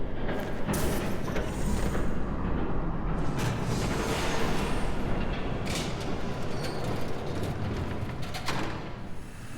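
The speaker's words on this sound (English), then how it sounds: "There's a train coming." A train approaching in Telltale's Batman video game, a steady loud rumble of wheels and carriages with metallic clatter, holding strong throughout with no speech over it.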